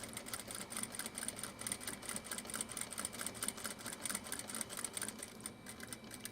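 A sewing machine back stitching across the end of a fabric pouch runs in a rapid, steady stitching rhythm at close range, pausing briefly near the end.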